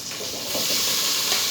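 Onions fry with squid in a hot pan, giving a loud, close, steady sizzle with a few soft stirring scrapes under the hiss.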